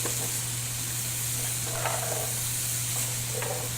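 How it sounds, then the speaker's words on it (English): Onions and carrots sizzle in a pan with browned meat for a pot pie, a steady broadband frying hiss with a low hum beneath and a couple of brief stirring scrapes, no voices. "After they're browned, they both get onions. They both get carrots."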